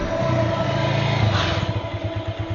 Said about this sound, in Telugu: ఏంటి సార్ ఇంత ట్రాఫిక్?